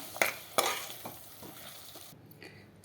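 Vegetables and green peas are stirred in a pan, with a few sharp scraping knocks over a soft background sizzle, close and short, fading quieter toward the end.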